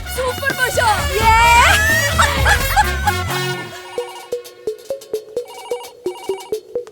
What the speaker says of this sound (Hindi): कब से बज रहा है फोन